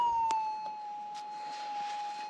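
A metal detector coil gives off a steady, thin electronic tone that holds almost unchanged for a couple of seconds. It sits at moderate level over faint rustling and a brief click, with no talking.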